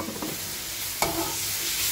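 Spice paste for a fish curry, made with taro and potato, frying over raised heat in a pan: a continuous close sizzle with a sharp spoon scrape partway through, no talking.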